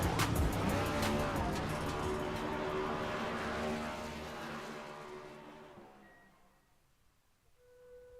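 Race car engines roar at Monza in the iRacing eNASCAR Coca-Cola Series as a car blasts through the Parabolica, a loud, rising, buzzing engine note with gear shifts that fades away into the distance, leaving near silence.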